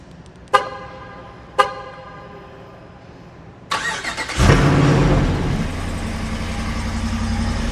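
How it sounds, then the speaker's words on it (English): An AEV Jeep Wrangler JL with the 392 V8 is started up nearby: two short sharp chirps are followed by the starter cranking, and then the engine catches into a loud, steady, deep idle rumble. "Back to making awesome V8 noises."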